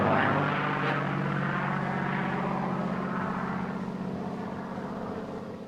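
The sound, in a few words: propeller airplane flying a climbing roll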